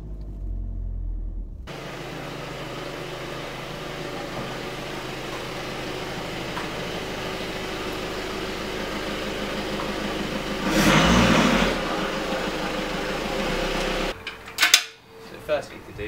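A VW Golf Mk7 reversing into a workshop bay, its engine giving a steady low rumble for most of the stretch, briefly louder near the end before clunks and cutting off.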